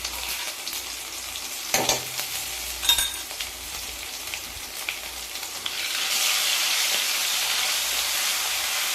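A tempering of asafoetida, curry leaves and ginger-chili paste fries in hot oil for Kathiawadi dal dhokli, crackling up close with a couple of stirring knocks, then swelling into a louder, sustained hiss.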